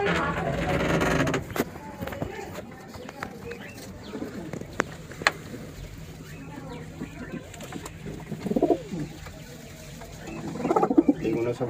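Madrasi pigeons coo softly inside a loft, with scattered wing flutters and movement, while people talk over them throughout.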